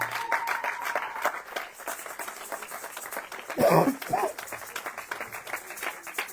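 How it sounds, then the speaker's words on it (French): A church congregation applauding, with bursts of clapping and cheering that rise to a loud peak before tapering, alongside some brief vocal calls. "Est-ce que tu peux acclamer Dieu pour cette parole?"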